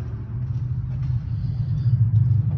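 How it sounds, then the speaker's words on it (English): Low freeway traffic rumble carrying down into a tunnel beneath the road, a deep steady drone that swells slightly toward the end, with no talking. "That rumble is like cars going above us because we're under a freeway right now."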